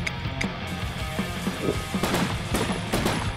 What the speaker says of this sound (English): Shoot up the zombies